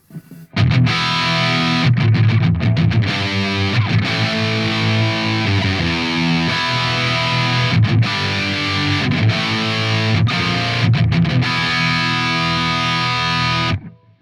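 A loud, saturated electric guitar plays a distorted 1980s-style lead line with no EQ, sustained notes and short bursts, thick and buzzy throughout.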